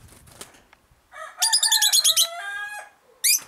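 A rooster said to have a cold lets out one loud close crow, a strained, ragged multi-part cock-a-doodle-doo, with faint clucks before it and a short squawk after.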